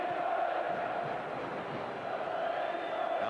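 Football stadium crowd at an Italian league match, Milan against Udinese, a steady, distant murmur of supporters with no distinct cheer, running evenly throughout.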